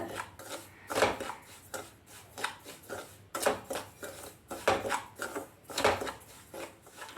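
One cup of semolina being dry roasted in a pan over medium flame, stirred with a spatula: close, rhythmic gritty scraping strokes in irregular bursts, fairly soft and with no talking.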